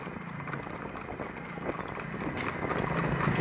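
Several horses move along a road with a busy, overlapping clatter of hooves that grows slightly louder toward the end, set against a steady wash of outdoor background noise.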